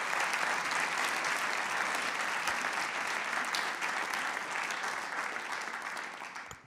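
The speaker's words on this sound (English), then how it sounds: "A round of applause for our speakers this evening" An audience at an evening speaker event applauds its speakers with loud, sustained clapping that fills the room throughout and begins to fade only at the very end.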